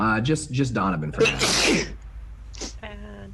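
A person sneezes once loudly in the middle of casual conversation among tabletop role-playing game players, the burst surrounded by speech before and after.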